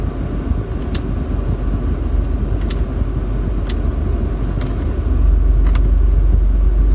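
A 2017 Alfa Romeo Giulia Quadrifoglio rumbles at a low, steady exhaust idle in race mode, its deep drone swelling slightly louder near the end, with a few faint clicks from the cabin.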